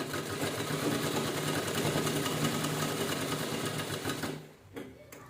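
A sewing machine stitches a two-colour purse with a fast, steady mechanical whirr and rapid needle clatter, running continuously up close before slowing and stopping near the end.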